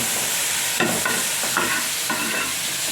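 Chopped tomato and onion frying together in a pan, with a spoon stirring through them: a dense, loud, steady sizzle broken by a few scraping strokes, close up, no voices.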